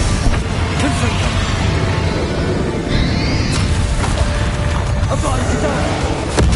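A Confringo fire spell explodes in the video game Hogwarts Legacy, a booming blast set among dense, continuous combat effects with clanking, mechanical and crashing game sounds.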